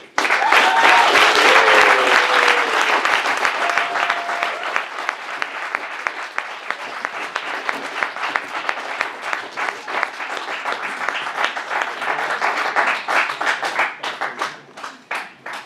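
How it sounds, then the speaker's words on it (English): An audience at a student government candidate forum for VP of Student Life gives a sustained round of clapping, dense and loud at first with a brief voice over the start, then gradually thinning and fading out. "All right, round of applause"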